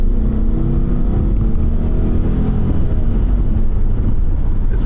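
A car in S drive mode accelerating hard up a freeway on-ramp, with a loud continuous engine and road roar that holds steady throughout, close and without speech.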